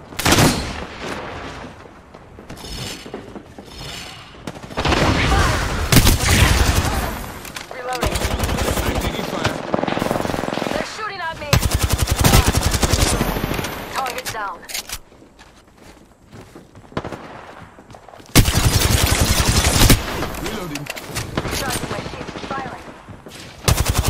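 Bursts of gunfire and machine-gun fire in an online battle royale video game, loud repeated volleys with brief pauses, several heavy clusters of shots, with footsteps and voices talking over the action.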